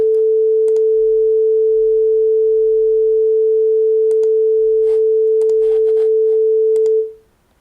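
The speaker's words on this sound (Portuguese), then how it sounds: "440 Hz. Ou seja, 440 vibrações por segundo" Steady 440 Hz pure sine tone, loud and unwavering for about seven seconds before stopping abruptly, with faint clicks underneath.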